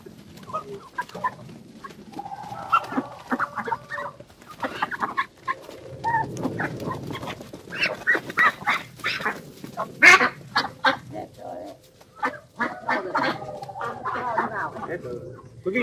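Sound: flock of ducks and chickens on a farm

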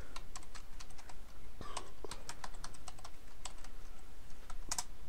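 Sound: typing a password on a computer keyboard

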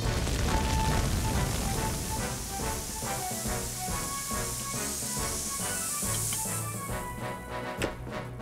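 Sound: tropical rain water spray putting out fire, Fireman Sam cartoon

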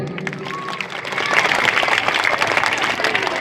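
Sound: audience applause

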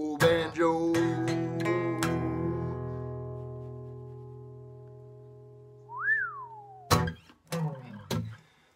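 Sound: whistling a song

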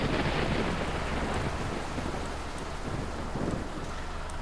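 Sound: rain

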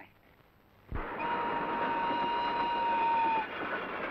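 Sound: running train

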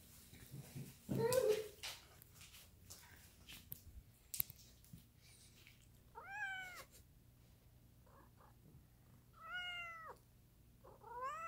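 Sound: cat meowing

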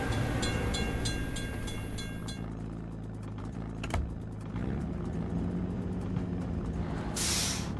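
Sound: train passing a level crossing in a truck simulator video game

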